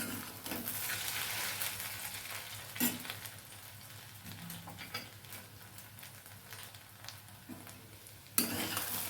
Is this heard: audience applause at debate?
no